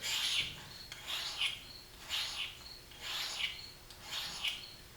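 Five rhythmic rasping strokes of a single-bevel broadhead across a KME sharpening system stone, evenly spaced, close and fairly quiet, with no talking.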